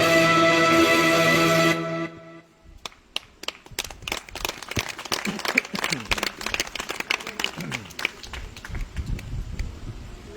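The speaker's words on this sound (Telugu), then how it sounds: "మీ అందరికి వందనాలు చప్పట్లు కొట్టినందుకు" Scattered audience clapping at a Christian preaching and music gathering, following a sustained sung or played passage; uneven handclaps of moderate loudness come in loose bursts, with a little murmuring underneath.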